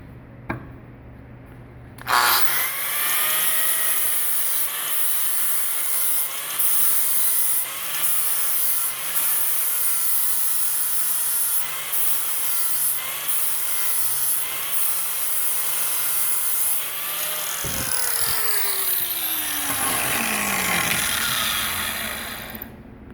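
Angle grinder wheel grinding a metal part, a loud continuous high whine with steady rubbing grit, close up and running alone for about twenty seconds, pitch dipping slightly as the wheel spins down near the end.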